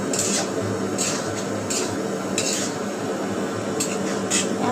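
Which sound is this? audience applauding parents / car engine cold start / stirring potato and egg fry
stirring potato and egg fry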